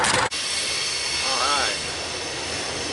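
A running engine idles steadily after an early morning cold start, a loud continuous rumble and hiss that holds level throughout, with a brief sharp burst at the very start.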